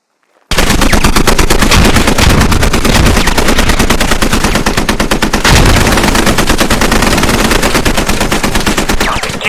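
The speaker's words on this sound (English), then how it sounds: "this is a live fire exercise" Sustained automatic gunfire during a live-fire exercise in the military shooter game Squad, a loud, dense, rapid stream of shots running continuously for several seconds with no pauses.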